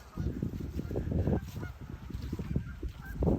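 Geese honk repeatedly in a busy, overlapping chorus, a flock calling nearby without pause.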